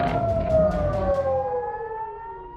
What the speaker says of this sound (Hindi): ईरानी हमले से पूरे इजरायल में अलर्ट सायरन की गूंज और मिसाइलों की आवाज सुनाई दी गई